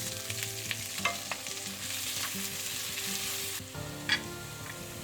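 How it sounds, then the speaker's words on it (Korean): Minced garlic, onion and green onion stir-fry in oil in a pan for sundae bokkeum, a continuous close sizzle with scraping stirs and a few sharp clinks, no voices. "팬에 기름을 두르고 다진 마늘, 양파, 대파를 넣고 볶아주세요."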